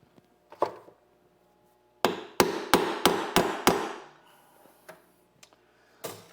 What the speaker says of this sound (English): Need my punch and my hammer.